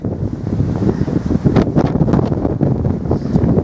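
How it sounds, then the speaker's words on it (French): Strong wind blows across an open landscape in Chile, roaring steadily and buffeting the microphone with rough, gusty rumble throughout. "Il y a énormément de vent."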